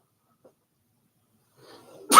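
A single sudden, loud human sneeze close by at the very end, after near silence.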